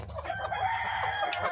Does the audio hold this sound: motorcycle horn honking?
no